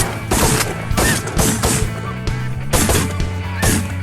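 A volley of shotgun blasts fired at incoming snow geese: several sharp, loud booms in quick irregular succession over about four seconds, with goose calls faintly beneath.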